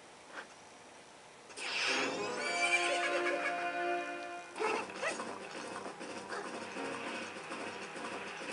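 A horse neighing in the video game Zelda: Majora's Mask, a loud descending whinny lasting a few seconds, followed by rhythmic game sound effects and music continuing steadily.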